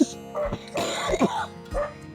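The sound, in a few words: coughing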